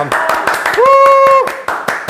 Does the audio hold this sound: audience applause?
yes